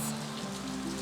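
Steady rain patters on a hard surface, a continuous dense hiss with no voices.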